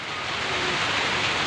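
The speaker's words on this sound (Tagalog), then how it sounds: "Lakas na ng ulan" Heavy rain from Typhoon Goring pours down in a steady, dense, loud hiss that fills the whole stretch without pause.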